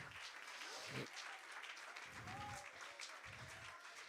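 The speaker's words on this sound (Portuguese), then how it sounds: "Aplauda ao Senhor" A church congregation claps during a worship service, a moderately loud spread of applause running throughout, with voices and singing mixed in.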